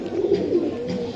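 A pair of local pigeons from Lalbagh in Old Dhaka coos in soft, throaty, continuous calls, close and clear with no talking.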